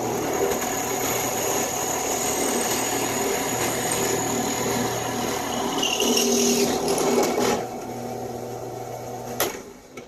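A power drill fitted with a 1/3-inch bit bores into a stone pipe, a steady close whine and grinding rasp that holds for several seconds before the motor winds down and stops.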